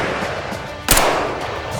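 A single gunshot is recorded far away for Sniper Elite 5: one dull, booming report over an outdoor hiss, with a long rolling tail that fades slowly.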